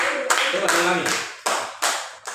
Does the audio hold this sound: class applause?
yes